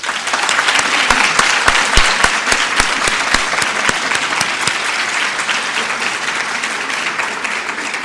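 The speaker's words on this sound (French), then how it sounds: "je vous demanderai de les applaudir" Audience clapping for a team member at a 2022 final's opening ceremony, dense and steady throughout with crisp individual claps standing out early, then holding at an even level to the end.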